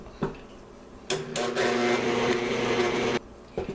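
An electric mixer whirs at a steady pitch while beating strawberry frosting, running loud for about two seconds between short clatters, with no talk.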